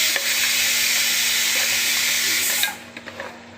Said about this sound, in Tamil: நல்லா வதக்கட்டும்.